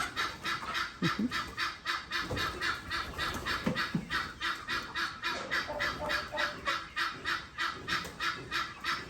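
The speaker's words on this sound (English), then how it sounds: "why the guinea fowl is making noise like that" Guinea fowl on a poultry farm in Ghana call over and over in a loud, rapid, rhythmic series of harsh, creaky cries, close by and steady throughout.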